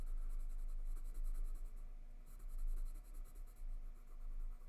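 Graphite pencil shading on paper, a close, continuous scratchy rasp of rapid back-and-forth strokes, fairly faint and steady, with no talking.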